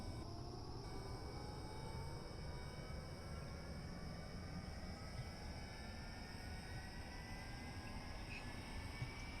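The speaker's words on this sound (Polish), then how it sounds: "Lewy silnik został już uruchomiony." An A-10 jet engine in a video game runs steadily with a low rumble and a rising whine climbing slowly in pitch, fairly quiet throughout.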